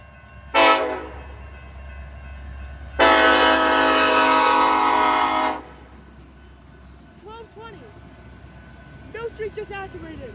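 A Norfolk Southern train sounds its horn near a crossing, one short loud blast, then a longer sustained one, followed by quieter sounds and faint voices.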